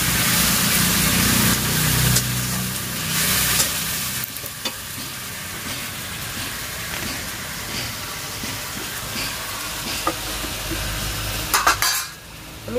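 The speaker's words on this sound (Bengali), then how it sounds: "আমি এর মধ্যে একটু জল দিয়ে দিলাম যাতে পুড়ে না যায় মশলাটা" A masala paste of ground ginger and spices frying in a pan with a splash of water, heard as a steady sizzle with metal utensil scrapes and clinks, flaring briefly louder near the end.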